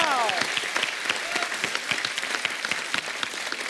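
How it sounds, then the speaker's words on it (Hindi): A studio audience on The Kapil Sharma Show breaks into loud, dense applause for a Filmfare Award winner, many hands clapping steadily throughout, with a brief tonal sweep near the start. "जोरदार ताली इनके लिए।"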